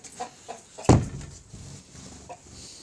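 Backyard hens in a small poultry coop give a few soft, scattered clucks with one sharp, louder squawk near the start, heard close by with no talking.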